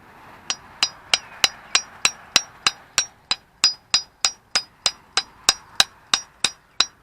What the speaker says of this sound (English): I may have to give it a little tap